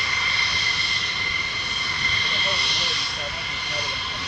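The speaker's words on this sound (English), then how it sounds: "Another F-35. Afterburner 119, absolutely right" An F-35 fighter jet at RAF Lakenheath roars past on afterburner, a loud, sustained jet rumble swelling slightly midway, with faint talk mixed underneath.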